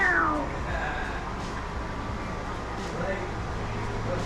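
A kitten gives a short, descending meow right at the start, then stays quiet over a steady low background hum for the rest of the clip.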